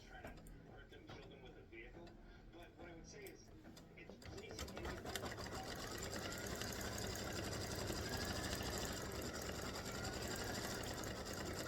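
Embroidery machine stitching out a pumpkin face block design: quieter handling and light clatter at first, then the machine's continuous busy whir rises and holds steady to the end.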